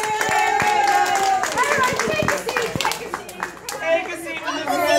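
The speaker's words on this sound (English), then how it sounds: "Give yourself a round of applause!" Children clapping at a kids' birthday party in Chicago, a lively burst of small hands applauding close up while young voices chatter and an adult speaks over them.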